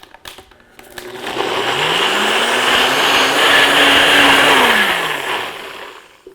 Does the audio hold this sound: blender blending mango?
yes